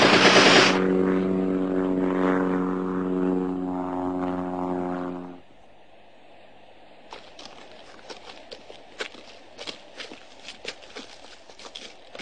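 Propeller observation aircraft flying, a loud droning engine with a strong steady hum for about five seconds that then fades, followed by quieter scattered clicks and footstep-like taps.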